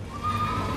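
A horse neighs in the video game Elden Ring, one clear drawn-out whinny over a low game background hum, heard alone without talk.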